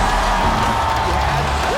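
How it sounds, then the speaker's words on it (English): Crowd at a League of Legends esports semifinal cheering and whooping loudly, a dense continuous roar of many voices throughout. "As their characters appeared on screen, the crowd went wild."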